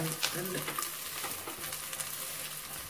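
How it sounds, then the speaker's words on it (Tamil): Onions and green chilies sauté in a pan for a palak paneer gravy, giving a steady close sizzle with faint scraping and small crackles throughout, no talk over it. "ரெண்டையும் சேர்ந்து வதக்கிக்கலாம்"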